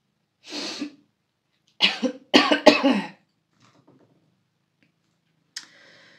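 A woman coughs from an itchy throat in a quiet room, one cough followed by a cluster of three harsh coughs close to the microphone, then a faint throat sound and a small click.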